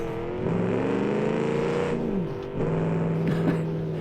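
A loud 1982 Viper concept car holds a sustained burnout, its engine droning steadily at high revs with a brief dip and pitch drop midway before surging again; no one talks.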